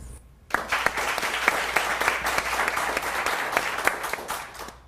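An audience bursts into warm applause welcoming guests onto a talk show about sound healing and hypnotherapy, steady clapping from a moderate crowd that starts suddenly and carries on evenly.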